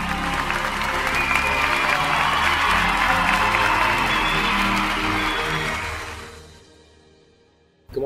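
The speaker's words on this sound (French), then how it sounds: "Allez, on les applaudit tous les deux." Applause from an audience at a large French motivational event, sustained clapping with a faint crowd murmur, holding strong before fading out near the end.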